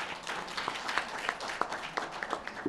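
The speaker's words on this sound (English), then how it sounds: "give a round of applause for him" A small crowd applauds steadily, a dense patter of clapping hands that continues throughout.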